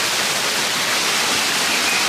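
A little mini waterfall beside a hiking pathway, with rain also falling, giving a loud, dense, steady rushing hiss that stays constant throughout, with no talking.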